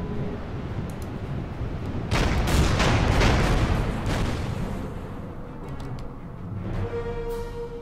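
Naval gunfire from warships in an Order of Battle Kriegsmarine campaign during Operation Torch: a sustained barrage of heavy booming shots swelling to a loud peak mid-clip, then tapering off with scattered blasts.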